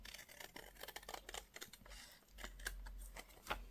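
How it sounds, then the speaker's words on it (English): Scissors snip a thin sliver off the edge of a paper envelope: a quick series of close, quiet crisp cuts and paper rustles over a few seconds, with no voices. "I am going to cut just a sliver along this edge, and maybe I'll do it with my scissors"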